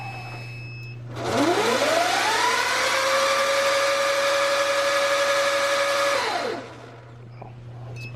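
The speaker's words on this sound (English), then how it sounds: "we're gonna do the motor calibration" An electric bike motor spins up under a KO Moto controller during calibration, whining upward in pitch to a steady high drone for about five seconds before winding down abruptly, loud and close with no talking.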